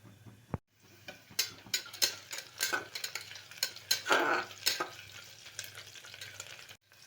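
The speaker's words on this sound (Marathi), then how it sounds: "खडे मसाले चांगले फ्राय झालेले आहेत याच्यामध्येच आता तेजपत्ता घालायचा चांगलं मिक्स करून घ्यायचं" Whole spices and a bay leaf fry in hot oil in a pan for chicken biryani, stirred with a utensil that clinks and scrapes against the metal in quick, uneven strokes over a crackling sizzle.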